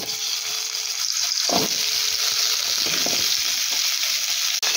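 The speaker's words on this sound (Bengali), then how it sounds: "এবার ফোড়নের উপরে দেব আগে থেকে কেটে রাখা আমরা" Cut hog plum pieces drop into hot spice tempering for a sour-sweet Bengali amra pickle, giving a steady loud sizzle and frying hiss, with a brief burst of stronger crackle as they hit the oil.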